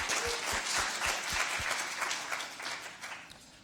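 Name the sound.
applause for a panel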